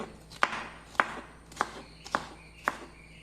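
Knife chopping capsicum into small pieces on a board, five sharp, separate chops spaced about half a second apart, close and clear with no talking.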